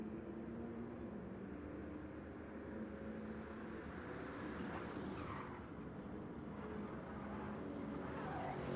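Race cars lap in a Daytona 24 Hours racing video game, a faint, continuous engine drone with a brief swell as one car passes another, no voices heard.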